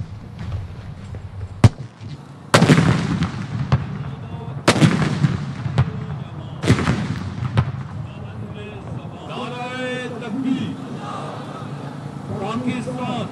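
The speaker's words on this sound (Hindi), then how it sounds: "इस्लामाबाद में 31 और चारों सूबाई दारुल हुकूमतों में 21-21 तोपों की सलामी दी गई।" Ceremonial cannon gun salute fired in Islamabad for Eid Milad-un-Nabi and Defence Day: several loud, booming blasts ring out a second or two apart, each with a rolling echo, and a voice speaks over the end.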